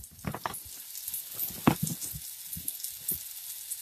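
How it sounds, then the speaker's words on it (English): Meat browning in a 6-cup crock pot gives off soft, intermittent sizzling and crackling with scattered pops, fairly close and quiet. "So that's just going to be cooking and browning over there."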